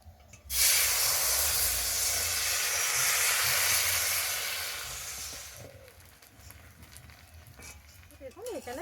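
Sweet pitha batter hisses and sizzles as it hits a hot wok over a clay stove, a loud steady fizz that gradually fades, with faint kitchen clatter afterward.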